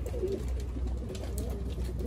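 Racing pigeons in a loft in Pensacola, Florida give low, soft, continuous cooing that stays close and steady, with no talk over it.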